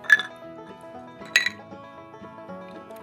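Two bright glass clinks of a toast with apple old fashioned bourbon cocktails, one near the start and a second about a second later, close and crisp over a quiet room hum.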